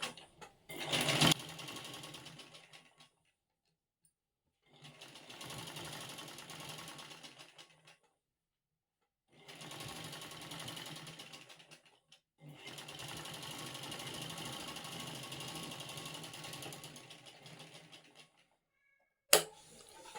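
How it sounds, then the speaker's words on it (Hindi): Sewing machine stitching around a blouse neck, running in several sustained whirring bursts of a few seconds each separated by pauses, close and clear, with a sharp clack at the start and near the end. "हमेशा इसकी जो शेप है प्रॉपर उसी में ही शेप पे सिलाई लगाएं।"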